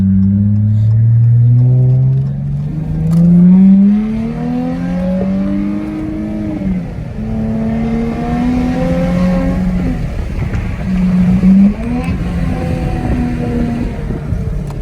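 A 2017 Dodge Charger SXT AWD revs and accelerates through its gears, a loud, close engine whose pitch climbs, drops at each shift and climbs again, steady and with no talk over it.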